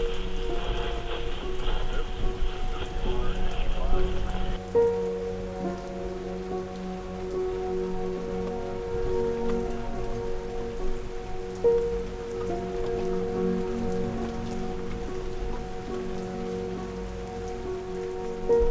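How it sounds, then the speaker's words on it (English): Steady rain patters on the ground of a riverbed off-road trail at Lytle Creek. The sound is a continuous, moderate hiss that runs throughout with a constant low rumble underneath and no voices. "The rain's starting to come down a little bit now"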